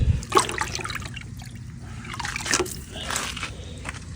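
Water being poured and swished through pre-germinating grass seed to rinse it, heard as close trickling and sloshing bursts that rise and fall irregularly.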